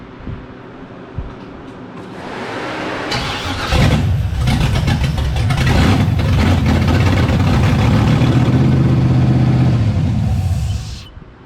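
An LS-swapped engine running on a Terminator X controller cranks for a few seconds, then catches and settles into a loud, steady idle before shutting off near the end.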